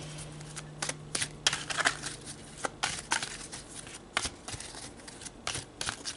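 Tarot cards being shuffled and drawn for a reading, a run of crisp papery riffles and slaps recurring irregularly over a low steady hum, with no talk.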